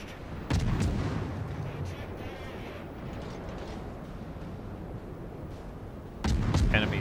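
Naval artillery fire in the World of Warships video game: a heavy booming salvo thuds in, rumbles on as a sustained roar, then a second loud blast hits near the end.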